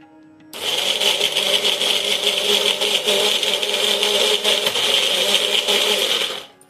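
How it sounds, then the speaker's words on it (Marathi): A mixer grinder blends dates and seeds, starting abruptly and running as a loud, steady whirring roar with a rattling edge for several seconds before cutting off. "खजूर मगजबी मस्त बारीक होई तोपर्यंत हे मिक्सरवरती आपल्याला फिरून घ्यायचं आहे"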